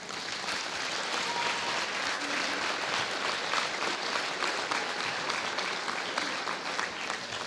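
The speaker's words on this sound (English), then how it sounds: "I'd like to give them a round of applause." Sustained applause fills a gym at a high school volleyball district championship night, many hands clapping in a steady, even wash, somewhat distant and moderately quiet.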